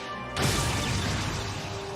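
Armor breaker shatter attack in the video game Trails of Cold Steel: a sudden heavy crash bursts in after a brief quieter lead-in, then sustains as a loud, rumbling, grinding smash.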